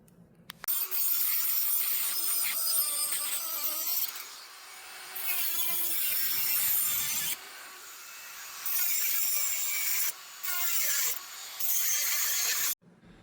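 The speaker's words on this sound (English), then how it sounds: "trim everything up using the rotary cutting tool to go ahead and cut these out to remove anything that's excess hanging" A rotary cutting tool trims excess material from a Nissan Frontier trailer hitch, a whining, rasping cut in several bursts separated by short pauses, fairly close and with no talk.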